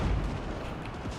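Battlefield cannons in Total War Warhammer 3 rumble in a dense, low booming wash of artillery fire, continuous and heavy with overlapping distant blasts.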